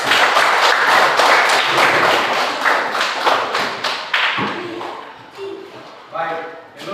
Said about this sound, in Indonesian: Ya, mari kita tepuk tangan.